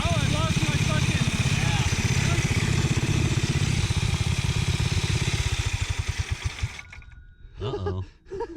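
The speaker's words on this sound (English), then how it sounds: "We took a ride on our little dual engine bike, and it was running really sweet." A home-built dual-engine mini bike on a custom frame, with 163cc and 196cc engines, runs loud and close with a busy, steady drone for several seconds, then cuts out. A voice speaks briefly afterward.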